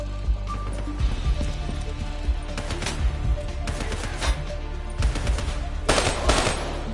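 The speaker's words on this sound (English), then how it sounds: "We're under fire!" Loud, close gunfire rattles through a Call of Duty: Black Ops 3 battle in rapid automatic bursts and heavy thuds, with a few louder volleys near the end.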